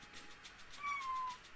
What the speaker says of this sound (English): if you hear odd thumping or rustling, that is the cat come to visit